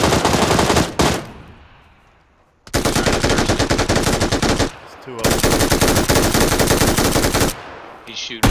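Sustained machine gun fire in a video game, loud and close, coming in three long dense bursts separated by brief pauses.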